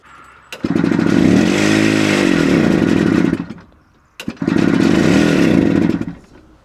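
A small Italian micro van's engine, revived after 20 years parked in a barn, runs with a loud close buzzy putter for a few seconds, cuts out, then fires again and runs steadily.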